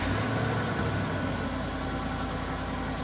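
A pickup truck idles steadily close by in rural Candler County, Georgia, a constant low rumble and rattle with a broad wash of noise, running alone with no pauses for the whole stretch.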